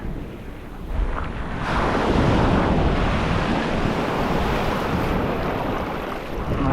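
Ocean waves break and wash up a Florida beach, a loud, steady roar of surf that swells and recedes, with wind buffeting the microphone.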